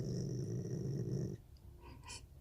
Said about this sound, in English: You're growling?